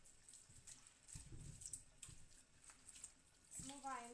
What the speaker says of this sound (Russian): Смываем тщательно,